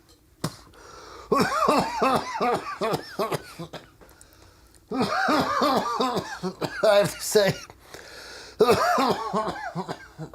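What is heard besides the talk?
coughing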